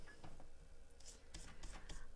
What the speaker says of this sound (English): pop it back down and cut back down again